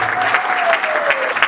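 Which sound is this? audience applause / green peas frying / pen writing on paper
audience applause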